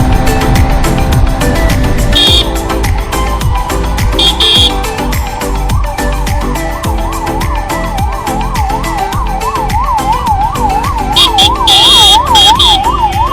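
A wailing ambulance siren moves through city traffic near a flyover, loud and close. Its rising and falling tone grows quicker toward the end over a constant rumble of engines and road noise.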